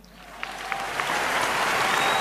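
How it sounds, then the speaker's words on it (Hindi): Audience applause at a business seminar, starting softly with a few distinct claps and quickly building into loud, dense clapping. "तालियां।"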